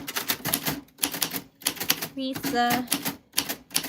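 Keyboard typing in bursts of rapid clicking keystrokes, close and moderately loud, interleaved with a person speaking.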